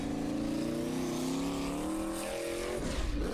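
Formula Offroad buggy called "the bomb" driving a hill climb at Akureyri, Iceland: a strong engine drone rising steadily in pitch as it accelerates, then a rougher burst near the end, heard from a distance.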